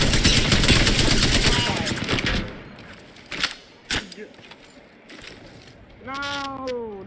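Rapid automatic gunfire fills the opening seconds of an online shooter match, followed by scattered single shots and game effects, with players talking over voice chat.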